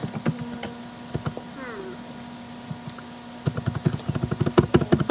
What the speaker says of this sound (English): I'm typing in manually.